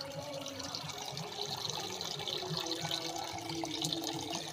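Water is poured into lemon sherbet made with lime, black salt and rock sugar powder, giving a faint, steady trickle of liquid with no talking.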